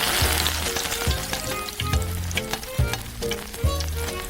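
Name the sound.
onions and ginger frying in an oiled pan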